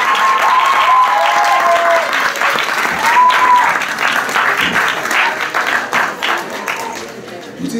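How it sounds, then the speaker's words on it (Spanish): Audience applause at the presentation of candidates for Queen of the La Paz Carnival 2019, sustained loud clapping from a large crowd with cheers and whistles, slowly thinning toward the end. "al señor Javier Escalier, por favor, fuerte el aplauso, bienvenido"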